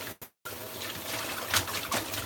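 Water from a kitchen tap trickles and splashes steadily while pasta is rinsed in a strainer, close and fairly soft, with a brief drop-out near the start.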